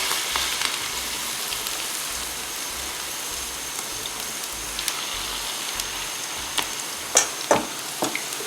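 Potato fritters fry in hot oil, giving a dense, steady sizzle like rain, with a few sharper clinks near the end.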